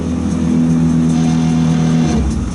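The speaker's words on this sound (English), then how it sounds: "we'll just tap the vibrator button a couple times" Vibrator on the salt hopper of an RVB fine bag salt spreader, sounding as a loud, steady mechanical hum that runs for about two seconds and then drops off, with no talk over it.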